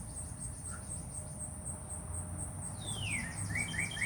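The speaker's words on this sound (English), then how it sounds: "I can listen to the birds." Continuous high cricket trilling with a few clear bird chirps and whistled calls near the end, calm outdoor ambience.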